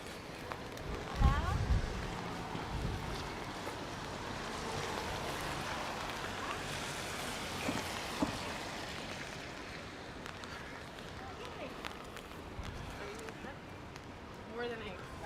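Stormy autumn weather on an Upper West Side city street: a steady broadband rush of wind and rain fills the whole span, with a few sharp gusts or knocks standing out near the start and middle.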